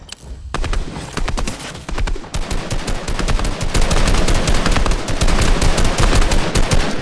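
Rapid, dense gunfire in Fortnite: a fast volley of sharp cracks that thickens into sustained automatic fire, loud and close, running nearly continuously after a brief quiet start.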